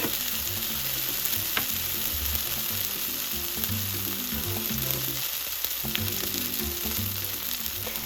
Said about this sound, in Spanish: Alrededor de una media cebolla la vas a picar en pedazos muy pequeños y la vas a sofreír.